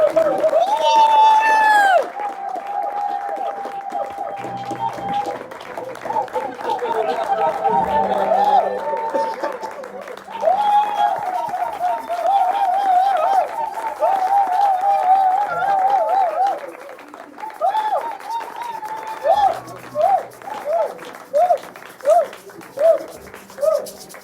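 A church congregation cheers and applauds loudly, with whoops and rhythmic clapping swelling and continuing throughout, and voices shouting over the crowd.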